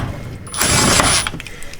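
A hand ratchet with a socket snugs diffuser bolts on a BMW M340i, a brief quick burst of clicking about a second long against a quiet garage background.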